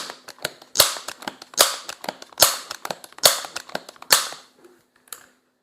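A Crosman 1300 Medalist .22 multi-stroke pneumatic air pistol fires pellets in a rapid series of about seven sharp, loud cracks with short decays, alone with no talking, and quieter clicks between shots.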